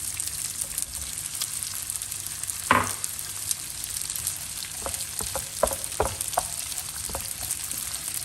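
Rice and meat frying together in a pan for Turkish-style chickpea pilaf: steady sizzling broken by a scraping stir and several light clinks of a utensil.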